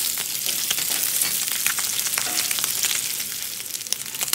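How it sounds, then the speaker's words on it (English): Chicken gizzards browning in 4 to 5 tablespoons of hot cooking oil give a steady, dense sizzle and crackle from start to finish, with scattered sharper pops and no voices. "Now I'm adding 4 to 5 tablespoons of my cooking oil. This is the time that I'm gonna fry it."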